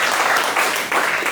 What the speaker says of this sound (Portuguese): Uma salva de palmas bem linda para o Senhor